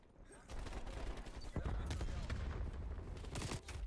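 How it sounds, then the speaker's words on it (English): Gunfire in the video game Call of Duty Cold War, MP5 submachine gun combat: dense, sustained shooting bursts and impacts with heavy low rumble throughout, with faint voices mixed underneath. "I ran straight into his bullets."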